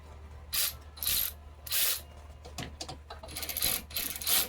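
A hand ratchet tightens bolts during a window motor replacement on a 2009 Nissan Xterra, several short bursts of close, crisp clicking separated by brief pauses, with no talking.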